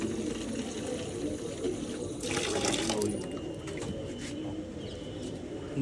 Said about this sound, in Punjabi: ਇੱਥੇ ਤੱਕ ਇਹਨੂੰ ਪਾਣੀ ਨਾਲ ਭਰ ਲਾਂਗੇ